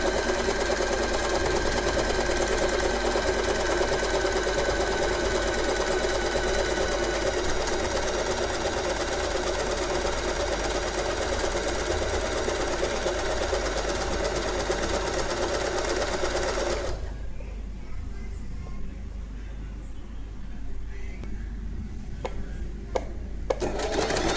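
A sewing machine stitches a picot edge along a royal blue lehenga skirt. The motor whirs loudly and steadily for about seventeen seconds, then cuts off, leaving quieter room sound with a few small clicks.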